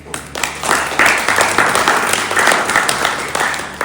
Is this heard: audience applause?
yes